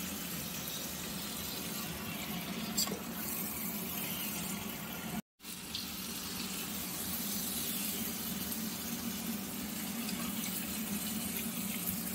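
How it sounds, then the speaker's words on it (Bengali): Hot water poured into a pan of chicken curry with fried potatoes, a steady watery hiss and trickle running evenly for about twelve seconds with a brief cut midway, no talking. "মধ্যে দিয়ে দিলাম একটু গরম জল"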